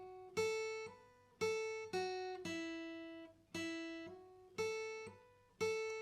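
Electric guitar playing a riff, with single strummed chords ringing out and decaying in a steady pattern, close and fairly quiet, no talk.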